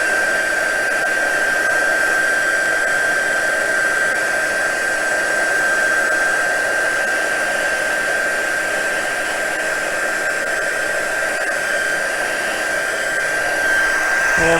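Heat tool melting embossing powder, a loud, close, continuous blowing roar with a steady high whine, running without pause and with no voices.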